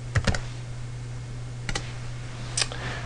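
Keys on a computer keyboard tapped to enter the make command, a few quick close clicks in small clusters with short pauses between them, over a faint steady electrical hum.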